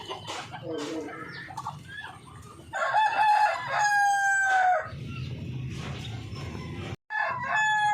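Darag breeder roosters crow nearby, a loud drawn-out cock-a-doodle-doo rising over ongoing clucking from the flock, followed by more scattered clucks and a brief pause.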